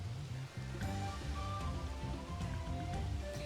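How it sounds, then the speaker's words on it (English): Rain falls in the video game Final Fantasy XIV: Dawntrail, a steady soft wash of drops under low droning game music, continuous and fairly quiet. "It's very rainy here."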